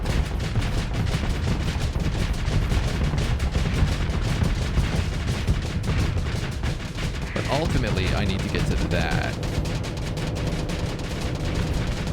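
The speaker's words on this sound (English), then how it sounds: "Ooh, those auto cannons hurt a lot." Rapid autocannon fire from a space battle in the game Starsector, a dense, continuous stream of loud shots with booming impacts, running under a voice as he talks.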